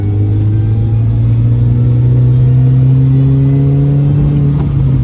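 A supercharged Mini R53 engine drones loudly and steadily, its pitch climbing slowly as it accelerates, with no voices present.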